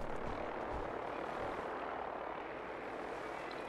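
A helicopter in the video game Fallout 4 flies overhead, its dense rotor roar steady and loud throughout with no break.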